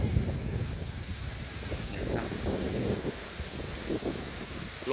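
Strong wind gusts across a Mekong river port at Kaeng Kabao, a steady broadband rush with buffeting on the microphone and a few faint voices mixed in.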